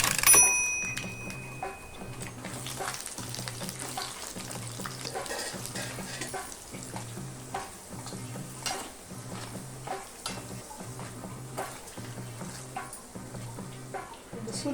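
Chana dal and urad dal fry in oil in a pan with dried red chillies, a close, steady sizzle with light crackles and occasional soft stirring clinks.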